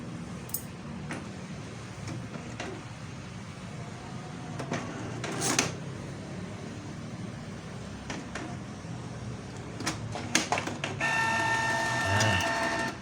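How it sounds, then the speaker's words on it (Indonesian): A new Canon iP2770 inkjet printer feeds a sheet of paper during a configuration self-test, with scattered clicks and mechanical taps, then a steady whirring motor drive near the end, close and moderately loud, with no talk. "menarik kertasnya normal"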